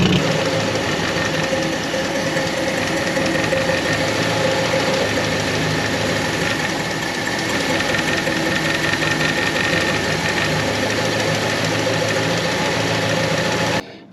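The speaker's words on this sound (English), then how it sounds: "I wish that exhaust didn't sound like that" A barn-find Ford Fairlane engine runs steadily close by, its exhaust rough and knocking in an uneven chuffing pulse. The sound stays at an even level for the whole clip before cutting off abruptly, with no talking.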